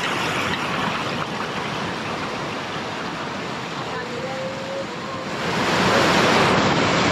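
Broad rushing water of a mountain river in the Main Divide of New Zealand, heard during a river crossing, steady and loud with wind noise buffeting the microphone and swelling louder toward the end.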